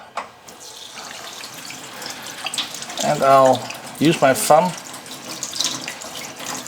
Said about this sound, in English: I'm only going to start with using some running water right from the tap.